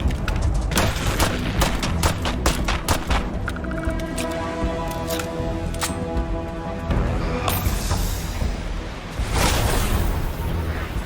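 Relentless rapid gunfire from a Starfield firefight, a dense stream of sharp shots and booms layered over a steady humming drone, loud throughout with no break.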